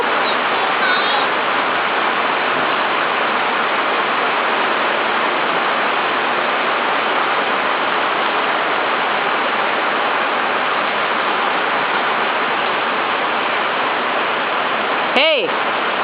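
Steady, dense rain hisses without a break in Venice, with a short sharp sound near the end.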